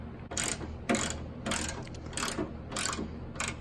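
A hand ratchet tightening a bolt in a car engine bay, six bursts of rapid clicking in an even rhythm, close and fairly loud over a low background hum.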